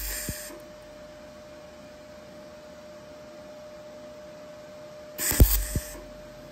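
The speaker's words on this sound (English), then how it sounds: "I've just put two little spot welds here and here to hold this plate to the chassis" Spot welds tacking a VIN plate onto a motorbike frame: a steady low background hum runs throughout, then near the end comes a brief, loud crackling burst with a few sharp pops.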